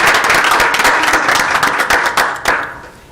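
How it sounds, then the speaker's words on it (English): Audience applause for the cast of a Hanukkah play, loud close clapping from a modest crowd that starts strong and tapers off toward the end. "Guys, let's give them a round of applause."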